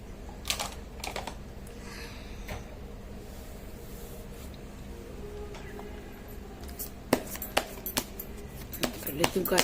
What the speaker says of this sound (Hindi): लेती हूँ कार्ड की शफलिंग